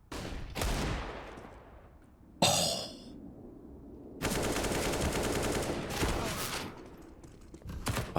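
Rifle fire, including an AK, in a Counter-Strike: Global Offensive pro match: several sharp bursts of automatic shots, loud and close, with a longer sustained volley in the middle and short pauses between.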